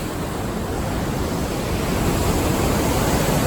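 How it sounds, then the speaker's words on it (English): The raging Beaver River rushes past a backpacking campsite as a loud, dense, unbroken roar of fast whitewater, close by and swelling slightly, with no voices. "There's the Beaver River raging with Rob filtering his water."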